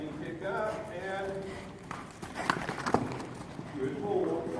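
A big five-year-old warmblood horse working in small circles, hooves clip-clopping steadily in the background while someone talks over them.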